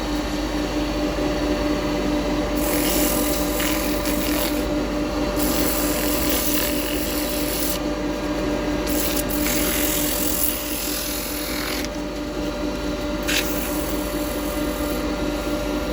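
Wood is sanded on a spinning lathe: a constant motor hum under bursts of raspy abrasive rubbing that start and stop several times.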